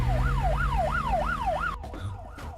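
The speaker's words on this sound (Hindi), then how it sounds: "ये तो पुलिस का सायरन है।" A loud, nearby police siren wails up and down in pitch about five times, then cuts off abruptly.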